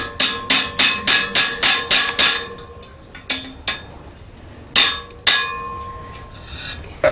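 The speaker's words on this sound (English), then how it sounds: "You hammer that sucker through first." A hammer strikes a rivet through forged iron legs of a firewood rack, a rapid run of sharp ringing metallic blows, then a few scattered hits with pauses between, close and loud.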